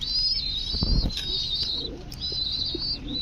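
Pigeons at a pigeon farm coo softly and flap their wings in short bursts, with a burst of wingbeats near the start against a steady high chirping of birds throughout.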